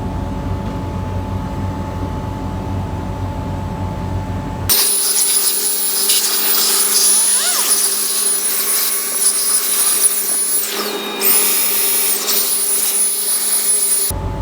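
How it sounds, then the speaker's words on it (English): A double-door home freezer compressor kicks on suddenly after a low hum, then runs loud and steady with a constant whirring drone and a high whine. "Compressor is now working"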